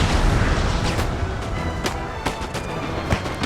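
Booming artillery from 12-pounder cannons fires in the Napoleon Total War video game, with sharp shots cracking over a dense, continuous rumble of battle.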